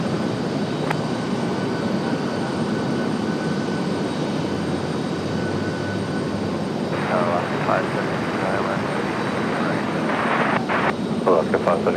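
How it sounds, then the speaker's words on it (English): An Embraer E-175 jet taxis out of an alleyway at Raleigh-Durham airport, a loud steady engine roar and whine dominating throughout, with radio chatter and voices faintly mixed in toward the end. "as you hear the E-175 getting out of the alleyway here."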